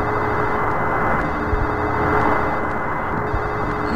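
Telephone ringing in the Silent Hill 4 video game, a muffled, distant-sounding ring over a dense, droning game ambience, continuous for several seconds.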